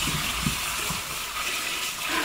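Tap water gushes steadily into a pot being filled for boiling potatoes, a close, continuous rushing hiss with faint clunks underneath.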